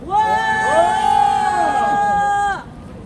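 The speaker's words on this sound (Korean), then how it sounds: "큰 함성으로 모시겠습니다." A large crowd at a Korean labor union rally cheers and shouts loudly together, a sustained roar of voices that rises, holds for a couple of seconds, then drops off abruptly.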